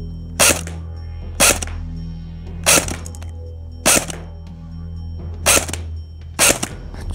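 An MP5 submachine gun fires six single shots at a target, sharp loud cracks spaced roughly a second apart with brief ringing echoes between them.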